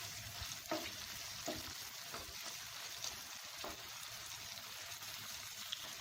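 Chicken sizzles with already-fried onions in oil while being stirred for gongura chicken curry, a faint, steady frying hiss broken by soft scraping stirs at intervals.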